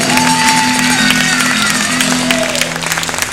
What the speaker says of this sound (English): Come on, let's get another applause for our friends up here